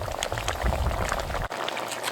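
Thick curry gravy for kingfish bubbling and simmering steadily in a pot, a close, continuous wet bubbling with a brief dip near the middle and no voices.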